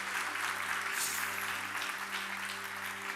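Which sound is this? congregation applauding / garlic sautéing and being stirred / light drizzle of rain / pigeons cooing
congregation applauding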